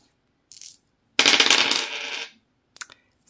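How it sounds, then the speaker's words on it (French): Dice rolled onto a hard surface: a short rattle, then a second of close clattering and tumbling that settles, followed by a brief tap, with no talk. "Donc là, on va tirer les dés."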